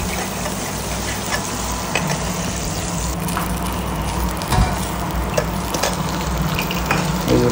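Browned garlic and onion frying in hot oil with salt, a continuous loud sizzle and crackle close by, with occasional stirring clatters and small pops, no speech.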